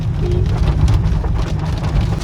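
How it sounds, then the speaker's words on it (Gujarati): Heavy rain pours down in Keshod, Gujarat, in a loud, dense, continuous wash with a low rumbling undertone. "જોરદાર વરસાદ આવે, અંધરાધાર પડે છે"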